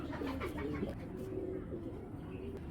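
Giribaz pigeons, a flying breed kept for pigeon contests, coo up close in repeated low, throaty rolls, several birds overlapping in a steady murmur.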